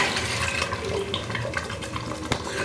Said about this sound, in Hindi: और साथ इसमें 1 ग्लास के करीब पानी ऐड किया